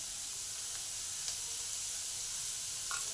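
Sliced onions fry with a pinch of salt in a pan for a Bengali kolmi shak dish, giving a soft, steady sizzle with faint spitting crackles throughout.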